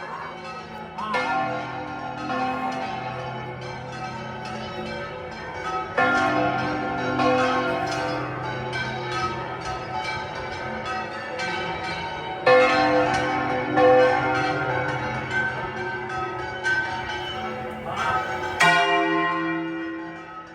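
Church bells swing and peal together at the Micalet bell tower, with other bell towers including Santa Catalina and San Esteban joining in. A loud, dense, continuous clangor of overlapping strikes runs steadily throughout.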